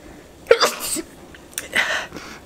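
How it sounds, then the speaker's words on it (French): A single person's sneeze bursts out close and fairly loud, a sharp breathy snort followed by a second weaker sneezy exhale, with a faint trailing sound at the end. "Ah, je vais encore éternuer."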